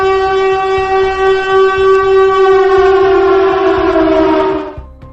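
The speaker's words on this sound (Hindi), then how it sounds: "वो सायरन जो शायद कोई भी सेलर अपनी सर्विस में सुनना ही नहीं चाहता।" A civil defense air raid siren wails loud and steady for about five seconds, its harmonic tone holding nearly constant before cutting off abruptly near the end.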